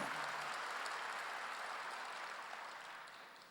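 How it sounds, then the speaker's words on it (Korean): Faint applause from a church congregation at a Wednesday service, a soft, even hiss of many hands clapping at a distance that slowly fades. "순종하고 기도할 때 누구든지 귀신을 내쫓고 병을 고칠 수 있는 걸 믿으면 박수로 하나님께 영광 돌려야 된다"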